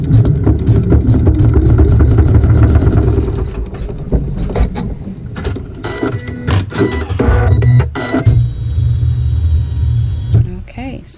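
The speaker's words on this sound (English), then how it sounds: "I'm laying it right side down with the raw edges even, and I sew a seam." A sewing machine stitching a seam on pink quilting fabric, a loud, close mechanical whirring run that pauses and restarts with clicks and short bursts near the end, with a voice speaking over part of it.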